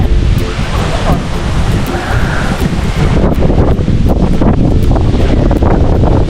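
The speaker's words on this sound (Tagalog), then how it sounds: "Napakalakas ng hangin." Loud, strong wind roars and buffets the microphone continuously, with a rushing, surf-like noise underneath throughout.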